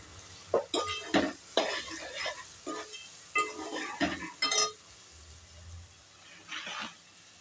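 Spices sizzle in a pan for tempering while mutton curry is being made, with bursts of crackle and scraping stir strokes against the pan, close and fairly quiet with short pauses between.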